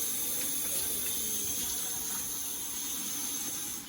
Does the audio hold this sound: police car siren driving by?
no